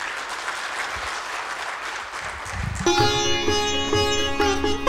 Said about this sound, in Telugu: మీ చేత నిజమైన చప్పట్లు కొట్టుకోగలిగాను.